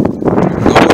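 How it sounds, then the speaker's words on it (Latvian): Gusty wind buffets the microphone of someone walking along a coast as the wind picks up and light rain begins, a steady rough roar with a louder surge toward the end. "Vējš palēnām pieņemās spēkā, bišķiņi arī lietuviņš parādās."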